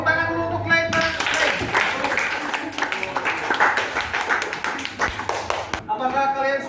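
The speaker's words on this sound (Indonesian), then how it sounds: "Tepuk tangan dulu" A classroom of students claps for a classmate, a burst of lively, close applause lasting several seconds, with a teacher's voice heard just before and after.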